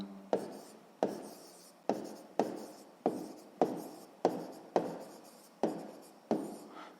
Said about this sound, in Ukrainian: Записуємо тоді мінус, викреслюємо, і записуємо тут, потрібно записати плюс.